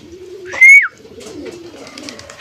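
A pigeon kept in a home loft gives a loud, close call with a rising, slightly wavering tone during a flight release. Faint background noise and distant sounds continue around it.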